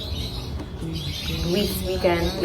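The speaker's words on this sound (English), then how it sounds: "As you guys can hear, though, outside is very noisy. My neighbor's birds and the cars passing by" Birds chirp outside in a neighborhood in Jamaica, with short tonal calls rising over steady traffic noise from passing cars, moderately loud and continuous throughout.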